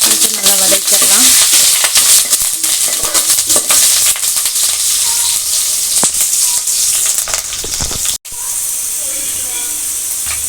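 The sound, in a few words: onion, curry leaves and chili sautéing in oil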